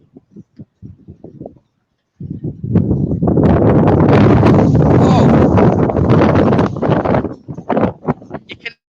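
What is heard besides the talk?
strong wind gale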